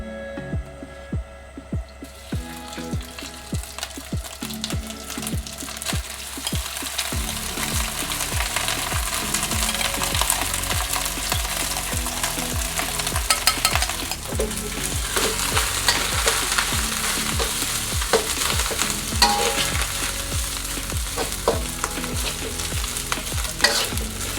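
Rice stir-fried in plenty of hot oil in a wok for golden egg shrimp fried rice, a constant crackling sizzle with steady rhythmic spatula scrapes and tosses throughout, close and unbroken by speech.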